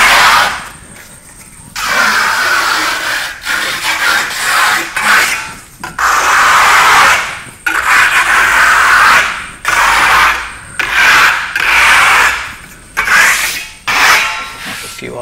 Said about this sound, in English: So now we're about to apply the top coat.